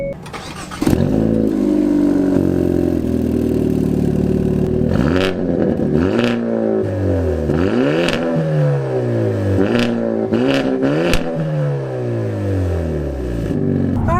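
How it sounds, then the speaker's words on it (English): A Hyundai Elantra N with a manual gearbox fires up by push button. The engine cranks and catches loudly, then revs several times in sharp rising and falling sweeps before settling into a close, throaty idle. "you put in the clutch, hit the engine start button, and it roars to life"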